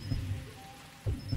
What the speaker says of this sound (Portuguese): Vou te escutar o coração batendo,